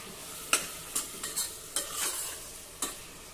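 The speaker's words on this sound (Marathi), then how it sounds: "एक मध्यम आकाराचा टोमॅटो हे देखील एक मिनिटासाठी परतून घेऊ" A medium tomato sautéing with curry leaves in a pan, heard as several short sharp scrapes and stirs over a soft sizzle, close and fairly quiet with no voices.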